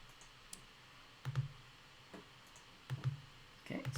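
Computer mouse clicks while picking colour swatches in quilt-design software, a few sharp, close clicks in small pairs spaced irregularly over a quiet background.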